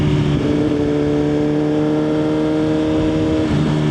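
A Suzuki GSX-R1000 sport motorcycle pulls hard through its gears, its engine note steady and loud with a brief shift break near the end, heard up close with no talk over it.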